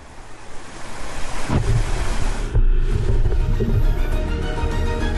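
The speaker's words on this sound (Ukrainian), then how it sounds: "Помірні хвилі м'яко б'ються об борт катера." Moderate sea waves slap and wash against the side of a boat in steady choppy surges, mixed with strong wind noise buffeting the microphone, with a couple of heavier splashes along the way and no voices.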